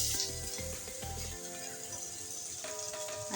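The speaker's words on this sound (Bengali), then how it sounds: "আরও কিছু তেল অ্যাড করে দিচ্ছি, দিয়ে দিচ্ছি পেঁয়াজ কুচি" Chopped onion sizzles in hot oil in a home kitchen pan for a Bengali vegetable fry. A steady, moderately loud frying hiss runs throughout, with some soft thuds early on.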